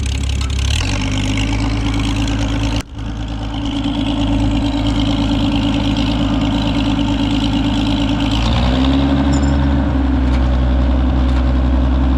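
A tractor engine runs wide open in third gear at about five miles an hour while planting hay, a loud, steady close-up drone that holds throughout, with a brief dip near three seconds and a shift in tone around nine seconds.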